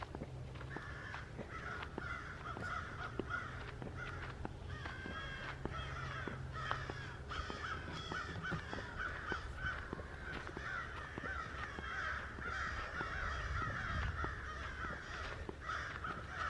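A flock of crows caws loudly and repeatedly outdoors, many harsh calls overlapping in a continuous, agitated chorus with no talking.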